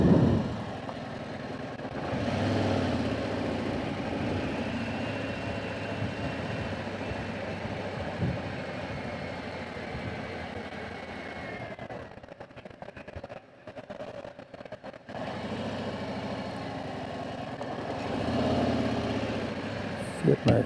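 A motorcycle engine idles steadily for about twenty seconds, a low continuous rumble close by with a brief dip partway through, while people talk over it.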